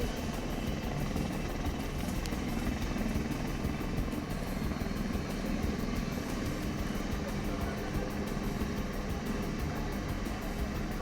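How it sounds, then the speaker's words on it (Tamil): An Air Force helicopter sits on a landslide-severed road in Chooralmala, Wayanad, during rescue work, its rotor thudding steadily and loudly under a constant turbine roar, with a voice faintly audible over it. "சூரல்மலை பகுதியில் நிலச்சரிவால் துண்டிக்கப்பட்ட சாலையில் தரையிறங்கிய ஹெலிகாப்டர் மீட்புப் பணியில் ஈடுபட்டு வருகிறது."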